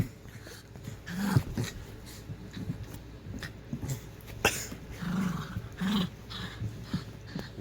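A dog growls in a few low rumbling bursts between quieter pauses, close and moderately loud, with scattered rustling and thumps in the background.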